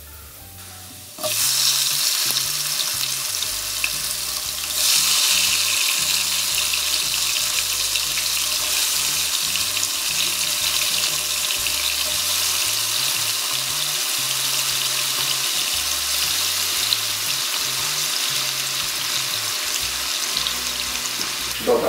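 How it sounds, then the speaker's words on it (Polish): Chopped tomatoes sizzle and spatter in a frying pan with garlic over lowered heat, a loud steady hiss throughout after a quieter start, with occasional stirring and no talking. "Dobra, pomidory mam pokrojone, teraz będę je lekko przerzucał."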